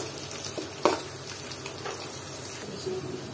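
Lightly browned onions with salt fry in a pan for mutton white korma, a soft hiss with scattered crackles and one sharp clatter from stirring.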